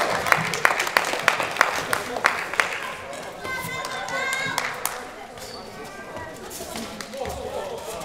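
Scattered, sparse clapping from a small audience at a kickboxing tournament sounds as distinct individual claps for a few seconds, then gives way to an announcer talking over quiet hall murmur.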